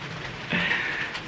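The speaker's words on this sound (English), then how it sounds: "it is raining now" Rain falling during a storm, a steady close patter and hiss on surfaces that swells briefly louder midway through the short stretch, with no talking.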